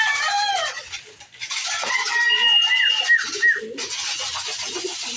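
Racing pigeons call near a loft during a fun race in San Quintin, Pangasinan, with close cooing and warbling mixed with clucking fowl and other bird calls.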